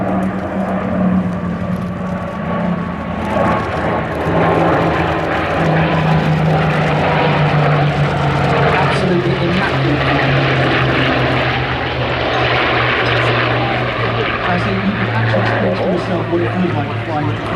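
WWII fighters, a Thunderbolt, Spitfire, P-51 Mustang and Buchon, sweep past in a four-ship formation, propeller engines droning loud and steady throughout, with a voice talking over the roar.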